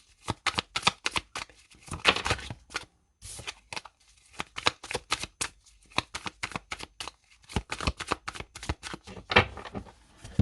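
A tarot deck is shuffled and cut by hand: bursts of crisp, fluttering card riffles and slaps, loud and close, separated by brief pauses, with no talking.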